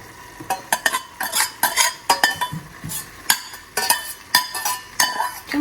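Pasta is tipped into a pan and stirred, giving close, rhythmic scraping and clinking of a utensil against metal with a light sizzle, in quick irregular strokes.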